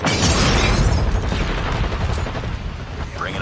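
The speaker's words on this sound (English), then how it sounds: "Grenade!" Grenade blast in the mobile shooter game Call of Duty Mobile, a loud, close boom with rumbling debris that fades slowly over a few seconds.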